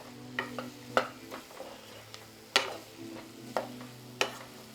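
Onion, garlic and browned Italian sausage being stirred in a soup pot for a keto Tuscan soup, a spoon scraping and knocking against the bottom in repeated strokes over a soft steady sizzle.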